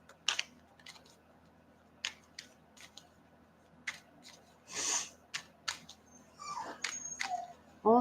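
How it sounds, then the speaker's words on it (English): A pet dog whimpers indoors in short high whines and yelps scattered across the stretch, with a few sharp clicks and rustles between them, close to the microphone and with no talking. "My dog."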